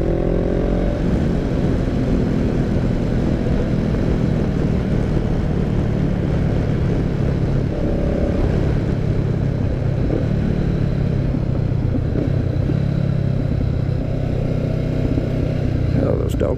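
A Honda CB500X motorcycle is ridden along a road among dogwood trees, its steady engine drone and wind rush continuing without a break and staying loud and close throughout.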